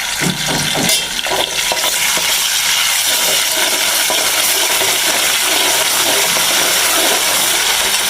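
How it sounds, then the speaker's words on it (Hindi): Ginger garlic paste frying in very hot oil for aloo katliyan and mash daal, a steady loud broadband sizzle that fills the whole stretch, with a few scraping stirs near the start and no talking. "अदरक लहसुन का पेस्ट हमारा डाल के थोड़ा सा भून गया"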